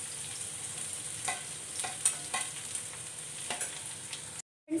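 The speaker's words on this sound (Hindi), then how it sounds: "और इसमें डालेंगे बारीक कटा हुआ प्याज, लहसुन और मिर्ची। और अदरक भी साथ में डाल देंगे और इन्हें अच्छे से भून जाने देंगे।" Finely chopped onion, garlic, green chili and ginger fry in hot oil in a pan, sizzling steadily with a few stirring scrapes and no talking.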